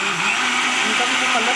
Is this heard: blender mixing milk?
yes